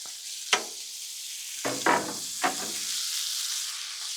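Cut steak dropped onto an oiled Blackstone griddle, with a few sharp sizzling bursts over a steady hiss of frying, no talking.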